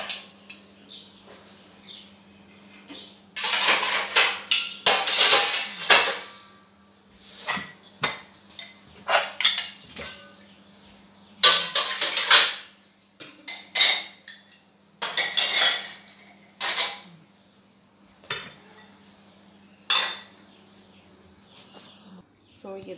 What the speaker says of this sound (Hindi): सो ये देखिए मैंने सारे बर्तन सेट कर दिए हैं इस तरह से